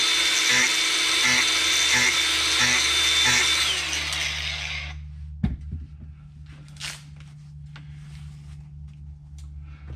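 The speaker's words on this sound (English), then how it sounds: "type of wheel for cleaning up welding and spots on metal, but it works really well on the wood as well." A rotary metal-cleaning wheel, normally used to clean up welds on steel, runs against wood for a sign with a loud, steady abrasive whir, then spins down and stops, leaving quieter workshop sounds.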